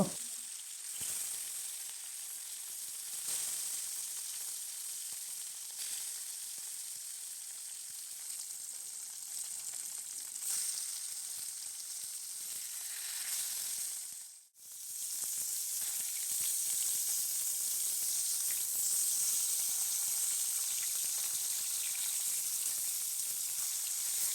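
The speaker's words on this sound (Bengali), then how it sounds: "প্রথমে কড়াইয়ে তেল গরম করে মাছগুলোকে ওলট পালট করে ভালো করে লাল লাল করে ভেজে নেব।" Katla fish pieces frying in hot oil in a wok give a continuous loud, close hiss of sizzling that runs almost unbroken, dipping briefly once before resuming, with no talking.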